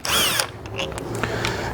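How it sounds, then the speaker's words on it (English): Cordless power drill backing out the two screws on a 1973-87 Chevy or GMC truck cargo light lens, a loud steady whir that runs for under two seconds with small tool clicks. "I'm just going to use a drill to get going. I'm going to remove the two screws that hold in the cargo lens"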